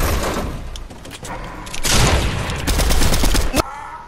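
Rapid bursts of gunfire from the Fortnite video game, with repeated shots and thuds running loud and dense across the whole stretch, a sharp hit near the end and no talk over it.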